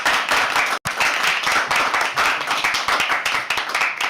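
Sustained applause from an open-mic poetry audience welcoming the next performer to the stage, dense clapping throughout with one brief dropout near the start.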